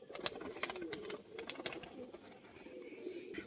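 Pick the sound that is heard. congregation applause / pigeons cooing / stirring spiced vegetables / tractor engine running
pigeons cooing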